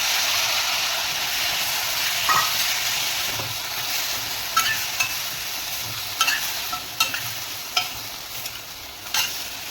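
Cinnamon, cloves and bay leaves sizzle steadily in hot oil in a pan for butter chicken, a continuous close frying hiss with occasional scrapes and taps of a stirring spoon.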